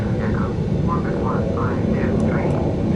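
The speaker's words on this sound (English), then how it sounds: "that engine noise in the background isn't my plane, that's just another plane just starting up" In the flight simulator game Flight Simulator X, another aircraft's engine runs up at an airport while the player taxis, a steady droning hum with rising and falling tones under continuous talk.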